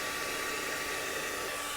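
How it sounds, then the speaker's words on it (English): A hair dryer blowing hot air onto crayon wax to melt it, a steady, even whoosh of airflow with no break. "So you want to keep the hairdryer away from the crayon"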